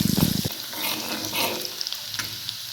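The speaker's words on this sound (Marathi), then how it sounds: "आपल्याला त्याच्यामध्ये लसूण टाकून घेऊया ठेचलेली। लसूण आपल्याला भाजून घ्यायचे लालसर।" Crushed garlic dropped into hot oil for a radish bhaji, a brief burst of close frying sizzle with a few spoon clicks, fading to a softer hiss.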